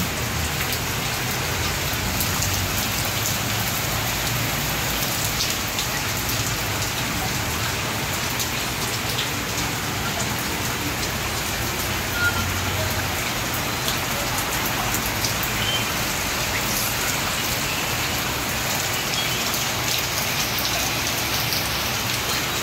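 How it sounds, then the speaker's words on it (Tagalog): Heavy rain pours down steadily in Luzon during a Signal No. 1 storm, a dense and constant roar of drops on surfaces that holds at the same loud level throughout, with no voices. "Saglit lang na biglang buhos ang ulan."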